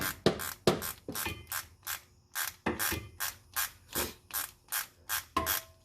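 A ratchet tightens a 10mm bolt on a Mazda Miata's rear brake with a quick, steady run of close, crisp clicks and no one speaking.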